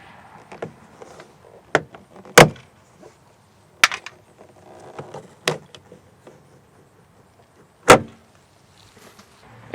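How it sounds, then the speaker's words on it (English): A door handle trim piece is pried off a 2001 Ford F-150 door, producing several sharp plastic snaps and knocks. They are spaced irregularly among soft handling rustles and are close and fairly loud. "The door handle trim piece pulls outward from the front and then frontwards towards the front of the vehicle."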